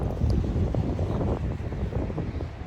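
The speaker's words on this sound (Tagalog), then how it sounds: "Ang hangin." Strong sea wind in the UAE buffets the microphone in a steady low rumble, gusting and roaring without pause, with no speech heard.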